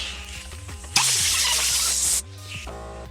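A burst of compressed air hisses loudly for about a second while a handlebar grip is worked off a WR250X supermoto, set against a low background hum and a few clicks.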